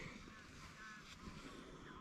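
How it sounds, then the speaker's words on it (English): Geese honking outdoors, faint and distant, with a few soft calls over a steady background hiss. "unfortunately you can hear geese"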